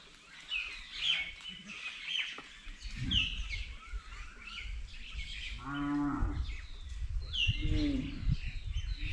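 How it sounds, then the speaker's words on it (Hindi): Cows low in long, deep moos near a banyan tree in a rural Bastar village, two calls in the second half, while myna birds chirp and whistle repeatedly in the background throughout. "यहाँ पे गाय वाय भी हैं तो उनका भी साउंड आएगा"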